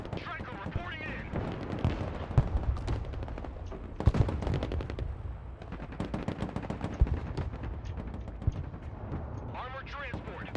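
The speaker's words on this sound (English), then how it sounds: "Heavy weapons team taking fire." Gunfire rattles through a Broken Arrow battle as dense machine-gun bursts and heavier artillery-like booms keep up a constant crackling barrage, with radio-style unit voices speaking over the combat.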